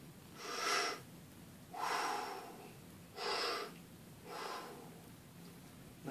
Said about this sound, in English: I do it in through my nose, out through my mouth.